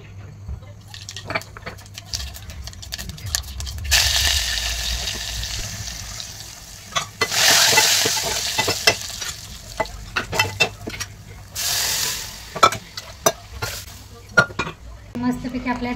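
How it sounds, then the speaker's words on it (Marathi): Dal (lentils) boils in a pot on a gas stove, a bubbling, sizzling wash that swells in bursts, with clinks of utensils and occasional stirring nearby. "मस्तपैकी आपल्या डाळीला पण त्याने उकळी आलेले आहे"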